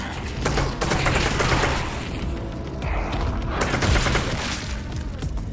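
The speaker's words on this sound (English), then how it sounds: "you're gonna shoot their legs and then shoot them in the head" Rapid gunfire sounds continuously in Half-Life: Alyx as creatures are shot, with mechanical clanks and booms mixed into a loud, busy VR game soundscape.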